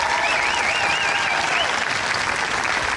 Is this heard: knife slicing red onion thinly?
no